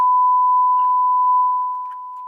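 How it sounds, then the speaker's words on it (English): Steady pure test tone from a DD1 distortion detector disc, played through an amplifier being set up for gain, a single continuous beep holding one pitch and fading slightly toward the end. "I'm playing a test tone from the DD1 song, or the DD1 disc, which is the distortion detector that Steve Mead basically designed"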